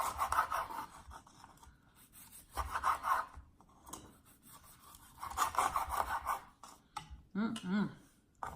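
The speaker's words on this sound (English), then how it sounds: "I cut it at an angle so that it looks like it's really tasty." A knife slicing food at an angle on a cutting board gives rasping, rubbing strokes in short bursts with quiet gaps, close and moderately loud.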